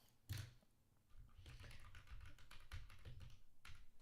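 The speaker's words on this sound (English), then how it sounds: "We're typing that again" Computer keyboard keys tapped in short clustered bursts during a live flute review, fairly quiet and near, with faint room noise around the clicks and no talking.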